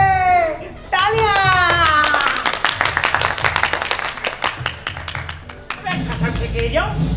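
An audience claps during a staged Hindi play by a drama company, with a sharp run of rhythmic claps following a voice at the start, then trailing into scattered claps and voices speaking.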